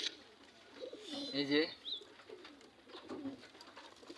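Pigeons coo softly in a loft in a short, close burst, with a few faint chirps after it while someone speaks quietly over them.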